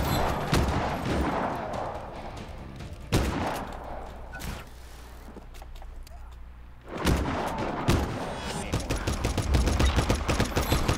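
Gunfire while shooting enemies in Just Cause 3, repeated rapid bursts of shots and booms at the start and a dense rattling volley near the end, loud and close, with some talk mixed in.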